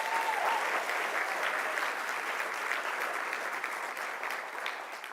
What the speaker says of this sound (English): a big round of applause for our entrepreneurs